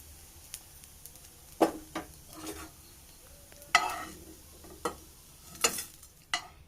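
Flattened rice (aval) being stirred and roasted in a pan with ghee while making a small-banana payasam: a spatula scrapes and scratches in separate strokes against a faint background sizzle, close up and with no talking.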